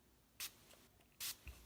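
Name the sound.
spraying a cosmetic spray bottle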